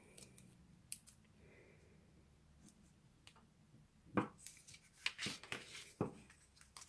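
Tear and tape adhesive tape being handled while wrapping a Yankee wax melt gift box, with quiet crinkles and a series of sharp tearing snaps clustered in the second half, close and alone.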